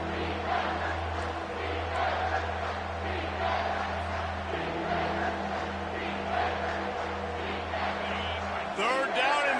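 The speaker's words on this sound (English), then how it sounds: "this crowd is tearing the lid off this place" A stadium crowd roars in the College Football 25 video game, a constant loud mass of cheering with a low drone beneath it, while an announcer-style voice talks over it.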